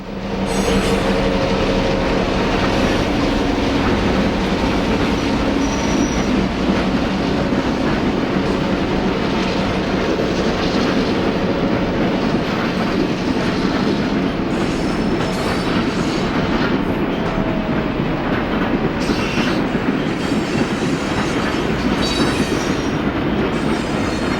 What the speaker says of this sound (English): the Cincinnatian passes a C&O switcher handling cars of auto parts at the Ford Motor Plant